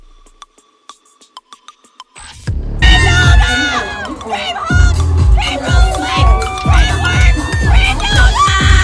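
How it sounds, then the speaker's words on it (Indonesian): Concert fans scream and cheer hysterically for a girl group taking the stage at a show in LA, a loud, dense roar of shrill shrieks that rises in waves after a few quiet clicks at the start. "teriakan antusias histeris para Orchid ini tak kunjung reda"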